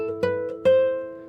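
A guitar string plucked with the soft flesh of the thumb rather than the nail, giving two warm, rounded notes in a row, the second one louder and left to ring out close by with no other sound.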